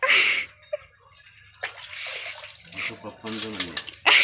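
Water is splashed onto the ground at a goat farm in bursts of spraying and splattering, with people talking over and between the splashes nearby.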